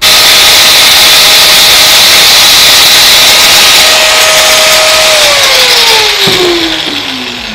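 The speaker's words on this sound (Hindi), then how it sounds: "इसको हल्का सा ग्रैंड की तार लगाना।" An angle grinder fitted with a wire brush runs loud and steady against a bicycle wheel part, its whine holding level before dropping in pitch as the tool spins down near the end.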